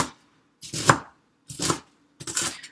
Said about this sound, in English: And now I'm just cutting at an angle so I get nice small